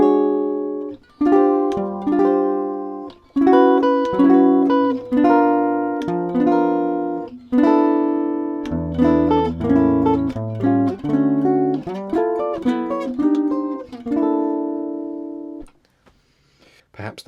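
Jazz guitar plays a 2-5-1 chord progression, a steady run of clearly voiced, ringing chords with a few single-note bass movements, close and alone with no talking, ending in a held final chord that fades out.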